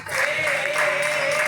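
Audience applause greeting four finalists called onto stage at a Talent Voice singing competition final, a steady dense wash of clapping with a sustained tone running underneath for the whole stretch.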